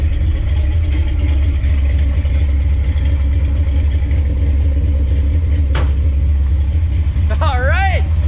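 A 1968 Chevy C20 pickup's big block engine idles steadily after its first start in years, a deep continuous rumble throughout, with a brief squeal near the end.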